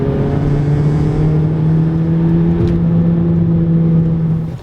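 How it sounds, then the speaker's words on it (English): Golf Mk5 GTI driving at steady speed, a constant low engine drone with road noise and a faint whistle of turbo spool riding over it, no talk. "you can slightly hear the turbo spool, but nothing's loud"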